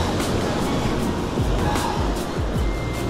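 Ocean surf breaking on a rocky Northern California shoreline keeps up a loud, continuous wash and roar with rhythmic surges, close by and buffeted by wind.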